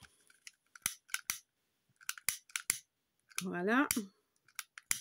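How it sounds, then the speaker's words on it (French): Scissors snip green ribbon in sharp, close clicks in an irregular rhythm, with a brief spoken word between cuts. "Il faut que j'aiguise mes ciseaux."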